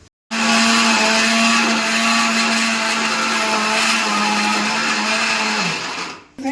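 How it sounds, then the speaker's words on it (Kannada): A kitchen mixer grinder blending bottle gourd and ginger, starting abruptly into a loud, steady high-pitched motor whir that holds for about five seconds, dips slightly in pitch, then winds down and stops. "ಇವೆರಡು ಮಿಕ್ಸಿ ಜಾರ್ಗೆ ಹಾಕ್ತಾಯಿದ್ದೀನಿ. ಶುಂಠಿ ಮತ್ತು ಸೋರೆಕಾಯಿ ಎರಡನ್ನೂ ಹಾಕಿದ್ದೀನಿ"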